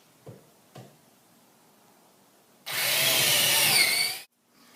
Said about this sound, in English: drill 1/4-inch holes completely through the bench top